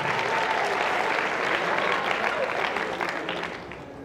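A theatre audience at a stage hypnosis show breaks into dense, sustained applause that fills the room and slowly tapers off toward the end, with no voices over it.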